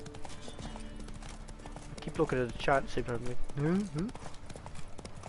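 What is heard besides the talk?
horse hooves trotting in Witcher 3 video game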